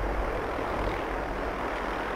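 A helicopter flies in Fallout 4, a steady continuous engine and rotor drone holding at even loudness throughout, with no talk over it.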